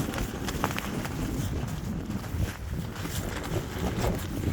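Steady strong wind roars and buffets the microphone at an urban forest campsite overlooking a city, a close, loud, continuous rumble with gusty fluctuations throughout.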